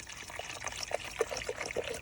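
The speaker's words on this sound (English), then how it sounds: "Pour 1 full fifth of Fireball." Fireball cinnamon whisky trickles and gurgles as a full fifth is poured into a coffee maker's water reservoir; the pour is quiet and close, with no one talking.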